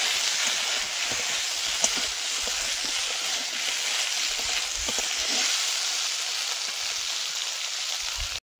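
Fried fish tossed into a pan of frying potatoes and stirred, a steady close hiss and sizzle of hot oil with faint scraping knocks from the stirring, no voices.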